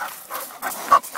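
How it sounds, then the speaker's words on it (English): A small dog pants in quick, breathy bursts at close range, several short rhythmic puffs with a tiny squeak partway through. "Hello, little dog."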